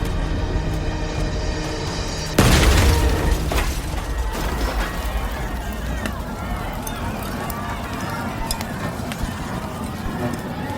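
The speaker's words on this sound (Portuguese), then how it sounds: "Apesar da explosão que acaba de se ouvir" A sudden loud blast from a building explosion cuts through steady background noise, followed by a crackling, rumbling aftermath that fades into ongoing ambient din.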